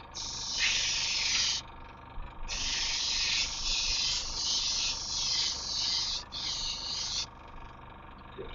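Iwata Eclipse Takumi airbrush with a 0.35 nozzle spraying paint in several long hissing bursts separated by short pauses, close and steady, with a faint background hum.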